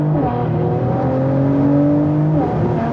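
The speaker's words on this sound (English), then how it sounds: "immediately I put my foot on it and it just pulls, and then the turbos kick in" A Mercedes-AMG C43 Cabriolet at full throttle, the engine note climbing steadily in a loud, continuous rising roar as the turbos kick in, heard from inside the car with no talking.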